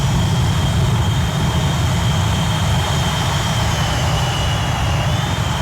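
Avro Vulcan jet engines in the X-Plane 11 flight simulator give a loud, steady, unbroken roar with a thin high whine riding on top, heard alone.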